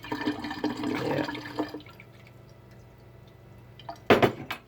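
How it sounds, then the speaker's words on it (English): Water runs from a kitchen tap into a container for a couple of seconds, then stops, and a short clatter of dishes follows near the end. "Filling up some water."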